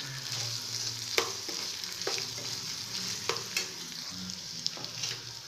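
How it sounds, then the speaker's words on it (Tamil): Green chillies and capsicum sauté with ginger garlic paste in a pan, an even, moderate sizzle with periodic sharp clacks and scrapes of a spatula stirring. "இஞ்சி பூண்டு பேஸ்ட்டு வதங்கினோடனே பச்சை மிளகாவும் கொடமிளகா சேர்த்துக்கோங்க,"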